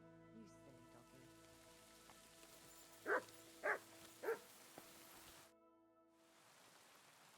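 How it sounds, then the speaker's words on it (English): A dog in the medieval video game Kingdom Come barks three times in quick succession against a quiet in-game ambience with faint rain-like patter. "You silly doggy."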